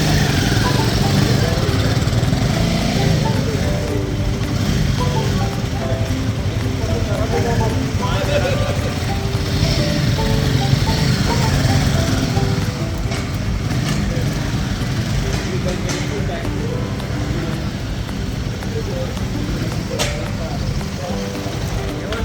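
A motorcycle engine, readied for a ride to Everest Base Camp, runs continuously at a steady idle for over twenty seconds, a close, even buzzing drone with faint background noise.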